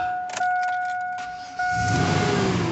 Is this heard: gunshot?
no